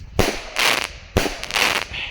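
Two loud Roman candle shots about a second apart, each a sharp launch pop followed by a hissing, crackling burst.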